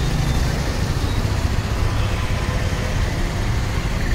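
A number 10 APSRTC bus arrives at the Tenali market bus stop in Andhra Pradesh, its engine a steady, close, continuous rumble amid roadway traffic noise.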